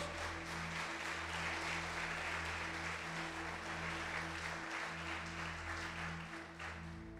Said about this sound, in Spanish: Dele ese fuerte aplauso a Dios.